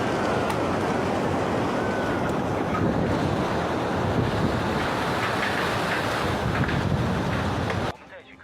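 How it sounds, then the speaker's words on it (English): Typhoon Danas winds battering the southern coast of Taiwan around Tainan and Kaohsiung at over 140 km/h: a loud, steady roar of wind and rushing water that fills the whole stretch, then drops abruptly just before the end. "Typhoon Danas struck the southern coast of Taiwan late last night, hitting areas around Tainan and Kaohsiung with wind speeds exceeding 140 kilometers per hour"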